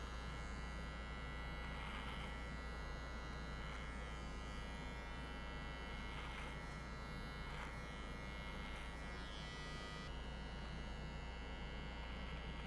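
Electric beard trimmer buzzing steadily while shaping a neckbeard, tightening the sides and corners; a constant close motor hum with faint rhythmic shifts in pitch as the blades pass through hair, no talking.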